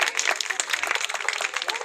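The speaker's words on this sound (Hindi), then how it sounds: "तालियों की गड़गड़ाहट रुकनी नहीं चाहिए, तालियां बजती रहनी चाहिए" Applause from an audience at the opening ceremony of a rural development scheme office in Bundi, a dense, steady wash of many hands clapping close and loud, with talk mixed underneath.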